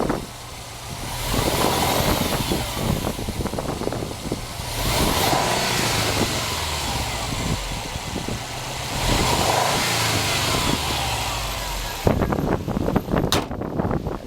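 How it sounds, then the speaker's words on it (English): A 2012 Subaru STI Limited engine runs outdoors, idling with a low rumble and rising into several revs, then settles before a few sharp bursts near the end. "I'll show you what the STI sounds on the outside"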